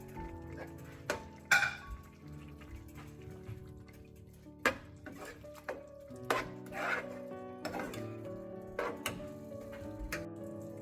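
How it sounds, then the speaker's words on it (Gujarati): Grated paneer being stirred into bhurji in a pan, heard as scattered close metallic ticks and clinks of a spoon against the pan with quiet gaps between them and no speech. "આપણે તે પનીર એમાં એડ કરી દઈશું. હવે એને હલાવી લઈશું."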